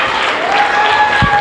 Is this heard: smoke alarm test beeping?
no